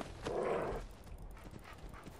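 Dogs attacking the player in a Fallout 4 mod, heard as a short snarling dog vocalisation followed by faint yips and scuffling, fairly quiet in the game mix.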